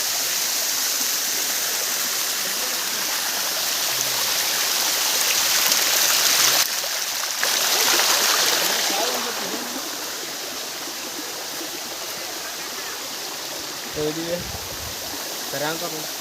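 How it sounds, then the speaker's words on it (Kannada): Bairappa falls in heavy flow near Hubli: a steady, loud, broadband roar of falling water throughout, close by, with a brief voice near the end. "ನೋಡ್ರಿ ಫುಲ್ ಹೆವಿ ಫಾಲ್ಸ್ ಮಾತ್ರ ಖತರ್ನಾಕ್ ಐತಿ ನೋಡ್ರಿ"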